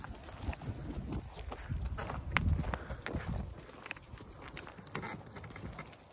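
A donkey walks on a farm, its hooves clopping in a steady uneven rhythm close by, with shuffling and rustling and chickens about, no talk over it.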